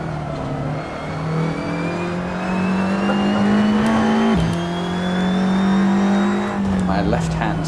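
A race car on a track roars near and loud, its engine note climbing steadily as it accelerates, then dropping sharply as it brakes into a hairpin before pulling away again with rising revs.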